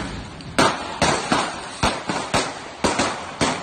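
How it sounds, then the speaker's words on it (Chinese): Police fire more than ten shots at a fleeing suspect's car on a street during the morning rush near a high school, a rapid irregular string of about nine sharp, loud bangs. "开枪了，有那个 枪声。"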